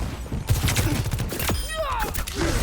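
A few sharp shots in the video game Overwatch 2, a rapid burst early then isolated cracks with ability effects, loud and close amid busy game sound.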